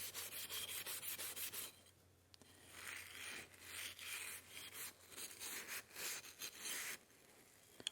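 Brisk scrubbing rasps against a freshly forged steel cocktail stirring spoon as forge scale is cleaned off, a close, rhythmic back-and-forth rubbing with short pauses.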